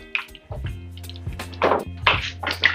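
A spoon stirs a pot of oxtail with ginger and garlic, giving a few short wet squelches and knocks against the pot over a couple of seconds.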